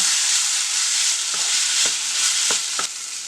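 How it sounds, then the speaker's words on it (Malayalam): Washed flattened rice (poha) is mixed in a hot pan, a steady sizzling hiss with a few soft clicks and scrapes from stirring near the end. "അതിലേക്ക് നമ്മൾ കഴുകി വെച്ചിരിക്കുന്ന അവലില്ലേ അതിട്ട് കൊടുക്കാം. ഇത് നന്നായിട്ടൊന്ന് മിക്സ് ചെയ്യാം."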